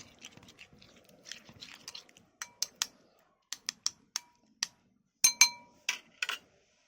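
A spoon scrapes and taps against a bowl while tomato chutney is mixed with lemon juice, starting with soft wet stirring and then sharp, evenly spaced clinks, close and fairly quiet with no talking.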